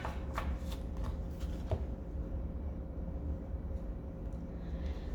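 A deck of tarot cards being shuffled, quiet crisp riffles and flicks in a few bursts early on, then soft low rustling over a faint steady hum.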